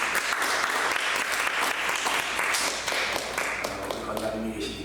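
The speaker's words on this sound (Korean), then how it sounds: "박수 한번 부탁드리겠습니다." Church congregation applauding in welcome of visiting deaconesses, a steady wash of many hands clapping that carries on evenly throughout, with faint voices mixed in underneath the clapping.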